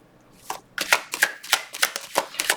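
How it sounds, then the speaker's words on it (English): Tarot cards riffled in a shuffle, with a run of rapid, crisp flutters and soft slaps as cards drop and fall, close and moderately loud, with no talk. "I know when I'm just dropping cards."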